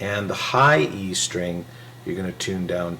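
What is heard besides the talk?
No everyday noise stands out behind the speech.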